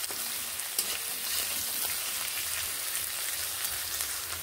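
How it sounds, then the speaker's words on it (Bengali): Sliced onions with a pinch of salt fry in a pan, giving a steady, even sizzle and crackle that runs throughout at moderate volume with no talking. "ভালো করে পেঁয়াজগুলোকে ভেজে নিচ্ছি এইভাবে"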